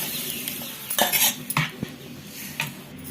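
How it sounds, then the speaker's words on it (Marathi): A spoon scrapes and clinks against a pan as colocasia leaf curry is stirred in tempering with chilli, with a few sharp metallic knocks over a faint sizzle. "हे भाजीचं फोडणीत वतून घ्यायचं आहे"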